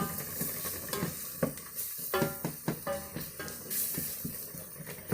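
Flour being stirred into a sizzling French onion soup base, with a steady frying hiss under repeated scraping strokes of a spoon against the pot, close and fairly loud with no voices.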